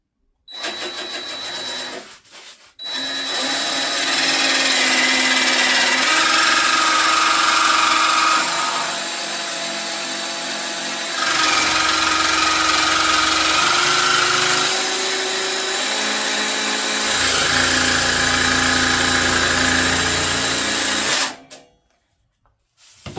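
A loud, steady power tool cutting metal whines continuously for about twenty seconds, dipping slightly in pitch a few times, with a grinding high-frequency edge and no talking.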